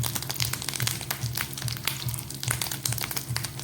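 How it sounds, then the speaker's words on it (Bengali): A rohu fish roe fritter fries in a pan of oil with a constant crackling sizzle and small pops of spattering, close and continuous. "ডিমটা খুব ছিটকাচ্ছিল, ওর জন্য ঢাকা দিয়ে দিলাম।"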